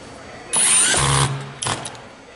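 Screws driven into an NR1890DR AirSpring housing with a number two Phillips driver: a loud mechanical whir of about a second with a low steady hum, then a second shorter burst.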